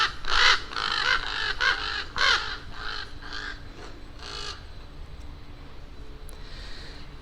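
Crows caw in a run of harsh, repeated calls near the start along a Haddonfield street used as a Halloween filming location, then fade into quieter outdoor ambience.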